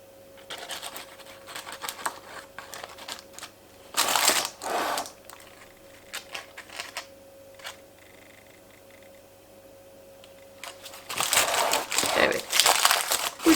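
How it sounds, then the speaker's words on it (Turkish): A knife saws through a crusty whole wheat sourdough loaf with a dry, thick crust, giving loud crackling, crunching strokes in bursts, with someone speaking between them. "Gayet kolay kesiliyor. Ee, kabuğu böyle kuruyup kalınlaştığı için zorlanmıyorum kesmede gördüğünüz gibi."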